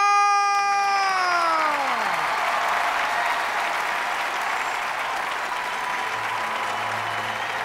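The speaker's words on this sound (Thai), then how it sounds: "ปรบมือดังๆให้กับห้าหนุ่มสุ่มเลือกมา" Applause from a studio audience at a televised youth music audition, a dense sustained patter of clapping that swells in after a fading musical chord and carries on loudly to the end.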